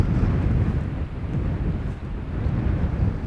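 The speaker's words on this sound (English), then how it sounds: "Now the wind is blowing from the northeast." Wind buffets an outdoor microphone at Amsterdam Schiphol Airport, a loud, continuous low rumble that surges and dips slightly throughout, with no voices.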